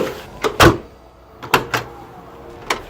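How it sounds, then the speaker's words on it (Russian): A UAZ Hunter car door closes with a few sharp thuds and latch clicks, spaced irregularly and heard up close, with short quieter knocks between. "Закрыли дверь."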